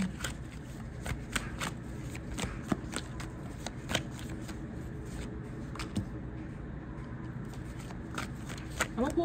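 Tarot cards being shuffled in a steady stream of riffling, flapping bursts close to the mic, with soft clicks and a faint voice underneath.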